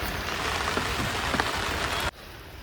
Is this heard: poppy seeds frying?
no